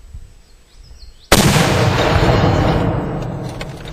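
A British 7-pounder gun fires one sudden, very loud close blast after a quiet lead-in, followed by a long rumbling roar and echo that slowly fades.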